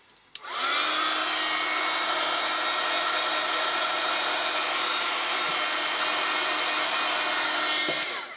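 Hair dryer blowing on freshly painted desk tidy pieces, a loud continuous whooshing roar that starts abruptly after a brief click and runs steadily to the end.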